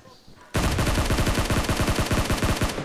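Automatic gunfire in PUBG, a sudden loud burst of rapid, evenly spaced shots that runs for over two seconds after a brief quiet start.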